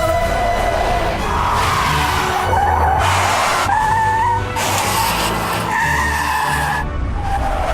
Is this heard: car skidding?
yes